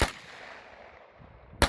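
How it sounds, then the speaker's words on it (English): Fully automatic MP5 submachine gun fire at an outdoor 2-gun match: a loud, sharp burst at the very start rings out and fades into echo, then a second burst cuts in at the end. "finally being able to shoot a fully automatic MP5"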